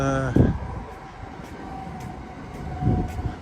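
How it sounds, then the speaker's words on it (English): A Great Western commuter train rumbles across a railway line overhead in northwest London, a low rolling roar with two heavier thumps of wheels on track, moderately near and loud throughout the brief passage. "there's a Great Western just going over the top there now"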